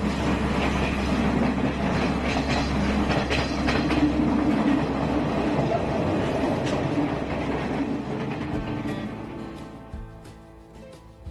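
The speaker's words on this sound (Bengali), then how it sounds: "ট্রেন আস্তে আস্তে গতি বাড়ালো।" Inside a second-class reserved carriage on Sri Lanka's Kandy to Ella railway line, a train rolls with a steady, heavy rumble and rattling wheel clatter that fades and quiets toward the end.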